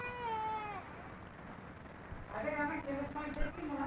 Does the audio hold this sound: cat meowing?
yes